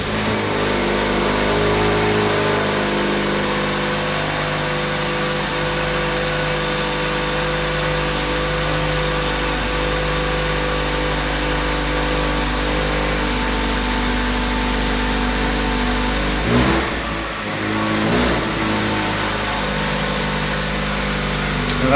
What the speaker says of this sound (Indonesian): Dengar deh suara mesinnya